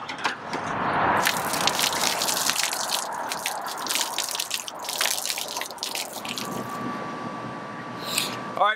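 Black water from an Airstream travel trailer's RV tank drains through a sewer hose at a dump station, making continuous close gushing and splashing with spattering drips throughout.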